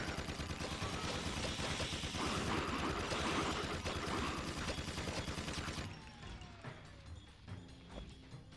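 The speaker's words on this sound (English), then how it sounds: "let's try out the Vulcan barrel. The Vulcan barrel is a minigun." A Vulcan barrel minigun fires in a video game as a dense, continuous roar of rapid gunfire, loud and unbroken for several seconds, then it stops and the sound drops to quieter rattling game effects.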